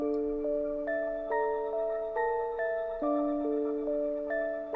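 A bell-like synth preset built from a sine wave, called Sparkle Filter Trim, plays a steady sequence of clear ringing notes with bright shimmering overtones, each new note striking roughly every half second, moderately loud and alone.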